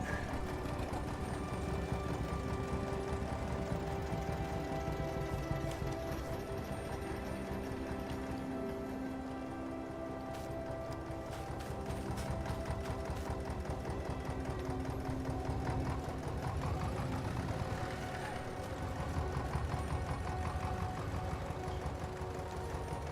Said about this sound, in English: let's move this tractor a little further forward.